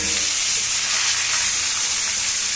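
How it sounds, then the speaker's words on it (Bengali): Vegetables, including bitter gourd, hit hot oil with reddened tempering spices and set off a loud, dense, continuous sizzle that stays strong and even for the whole stretch. "এবার আমি তরকারিটা ঢেলে দেব।"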